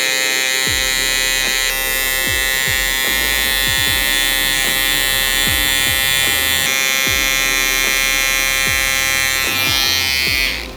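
Electric hair clippers fitted with a number 3 guard buzz loudly and continuously through a skin taper and textured crop, the close, steady drone broken by repeated short snips and brushes as the blades pass through the hair.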